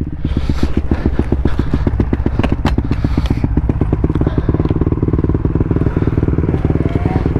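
Snowmobile engine running hard and loud up close, a steady droning rev with rapid pulsing firing beats throughout, some clatter and scraping mixed in, no voices.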